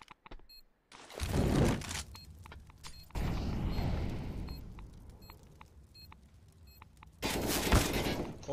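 Rapid bursts of gunfire in the shooter CS:GO, loud and close, with a sharp volley near the start, sustained firing through the middle and another heavy burst at the end, no talk over it.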